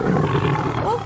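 A tiger gives a short, deep roar lasting about a second, loud and rumbling, with a rough growling texture.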